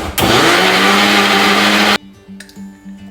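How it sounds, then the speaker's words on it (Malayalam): A kitchen blender whirs loudly and steadily for about two seconds, blending strawberry, banana, milk and ice cream into a smoothie, then cuts off abruptly, leaving faint low clinks and room noise. "ഈ മിക്സിയിൽ നമ്മളിപ്പോൾ ഇതെല്ലാം കൂടെ അടിച്ച് നമ്മുടെ സ്മൂത്തി ആക്കാൻ പോവാണ്."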